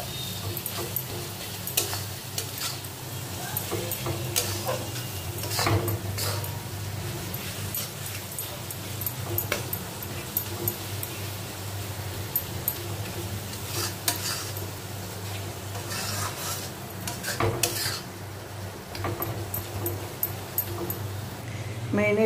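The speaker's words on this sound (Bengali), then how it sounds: "সব মশলাগুলো দিয়ে ভালো করে কষিয়ে নেব" Ground spices, including cumin powder and Kashmiri red chili powder, fry in a pan while being stirred: a low, steady sizzle with soft scrapes and clicks from the spoon, fairly quiet throughout.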